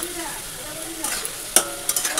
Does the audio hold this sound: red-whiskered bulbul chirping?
no